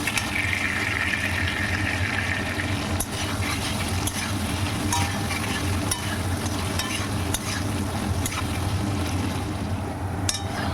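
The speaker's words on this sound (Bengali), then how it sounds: "আলুর মধ্যে এখন সামান্য লবণ ও হলুদ গুঁড়ো দিয়ে ভালোভাবে নেড়েচেড়ে বেশ লাল লাল করে ভেজে নেব।" Potato pieces with salt and turmeric frying in hot oil for a Bengali rui fish curry, a loud steady sizzle throughout with scraping and clinking from a stirring spatula at irregular intervals, no voices.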